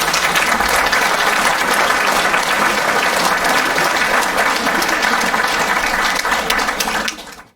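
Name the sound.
audience applause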